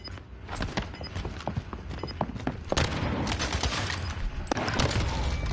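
Video game gunfire cracks in scattered single shots and short bursts, then turns into a denser, busier volley in the second half, with no one talking.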